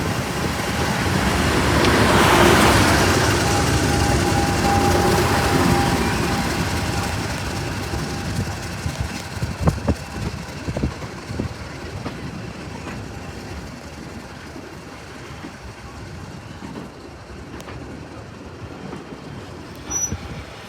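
Diesel locomotive 50033 working a train on the West Somerset Railway during a summer diesel festival, a broad rumbling roar that swells early, then fades into a quieter rolling rumble with faint clanks and wheel noise, no talking.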